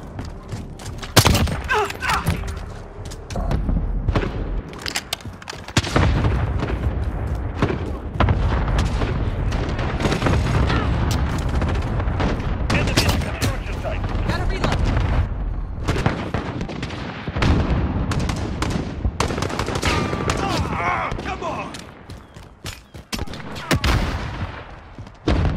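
Dense video-game battle gunfire: continuous bursts of rifle and machine-gun shots mixed with heavy booms and explosions, loud and close, with brief voices and radio callouts cutting in.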